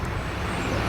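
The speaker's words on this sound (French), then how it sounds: "on entend les voitures qui passent sur ma gauche à moi" Steady road traffic noise from cars passing on a road below a riverside walk along the Seine, a continuous low rumble heard from a distance.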